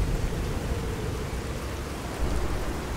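A heavy rainstorm in Fallout 4 roars steadily as a dense, loud wash of rain with a low rumbling undertone that swells slightly near the end. No voices are heard.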